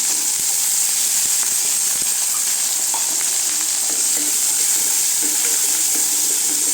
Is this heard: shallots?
yes